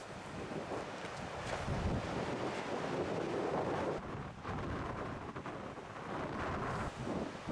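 Headwind blowing across an open outdoor field, a loud continuous buffeting rumble of wind on the microphone that rises and falls in gusts.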